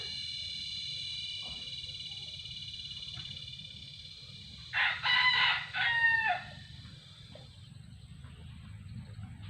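A rooster kept in a backyard coop crows once at a moderate distance, a rising then held call lasting about two seconds, over steady buzzing insects or frogs and a high background drone.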